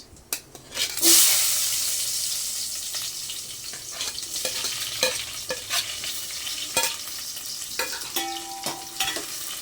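Chopped onions fry with mustard seeds and cumin in a pan: a sharp burst of sizzle, then a steady crackle under repeated scraping and clinking of a stirring spoon.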